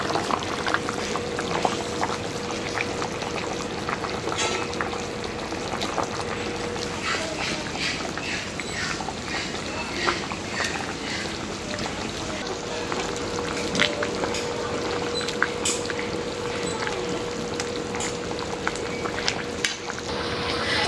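Fish goes into a pan of nearly cooked taro, which keeps up a dense bubbling sizzle for about twenty seconds, with scattered clinks, a steady background tone and faint voices.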